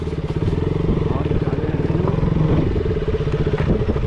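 A motorcycle rides along a hill road in the Mukteshwar area of Uttarakhand, its engine thrumming steadily and close with a continuous chugging pulse throughout.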